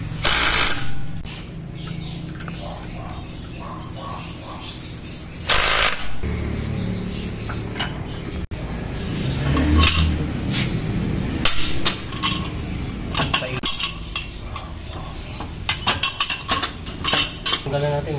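A metal crossbar wrench working a size 21 fitting during a gas tank leak repair on a Toyota Corolla Altis, with repeated metallic clanks, clinks and scraping knocks in irregular bursts, loud and close over a long stretch.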